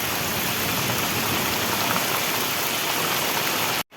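Heavy rain pouring down outside a house, a dense, loud, continuous hiss of drops on surfaces that fills the whole stretch and cuts off abruptly near the end, with no voices.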